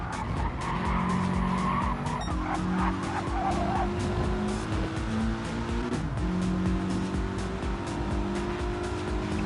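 Race cars in a WTCC round at Brands Hatch in a racing video game, with one spun off the track: loud sustained tire skidding and squealing over steady engine drone, continuous throughout.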